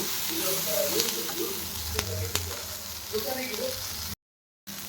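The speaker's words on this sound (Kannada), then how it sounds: "ಡೈರೆಕ್ಟ್ ಇದರಲ್ಲೇ ಫ್ರೈ ಮಾಡೋಣ ಅಂತ ಮಾಡ್ತಿದ್ದೀನಿ" Cashews fry directly in a pan while cooking paneer masala, making a steady close sizzle with occasional stirring clinks and a brief dropout near the end.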